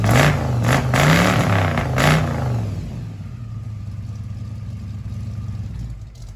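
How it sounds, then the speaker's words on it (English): Ford Mustang engine that has sat unstarted for about two weeks, revving with rising and falling pitch for roughly two seconds, then settling into a steady, rumbling idle, loud and close with no talk. "we started the Mustang up and moved it because it ain't been started in like 2 weeks"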